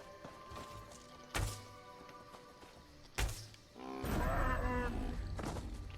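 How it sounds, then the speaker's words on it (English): A cow in the Elder Scrolls Online game gives a loud, drawn-out moo after two sharp thuds, the low call swelling and then fading slowly. "That looks like a big... Oh, it's a cow."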